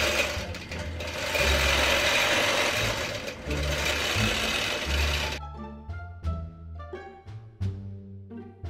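Sewing machine stitching minky fabric, a steady loud mechanical whir for about five seconds, then slower, uneven bursts of stitching with clicking needle strokes.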